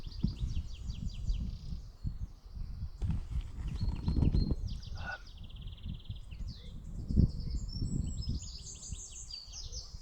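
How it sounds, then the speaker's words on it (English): Dartford Warbler singing from shrubbery outdoors, bursts of scratchy, rapid high-pitched song phrases repeating across the clip over a low rumble of wind and handling noise. "I can hear the Dartford Warbler in the shrubbery just here."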